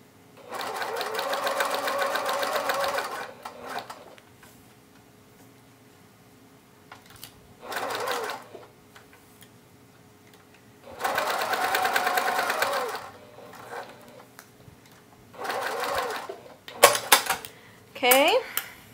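A sewing machine top stitches fabric strap tabs for a tote bag in several bursts of steady, fast needle running separated by pauses, with brief clicks and handling noises near the end.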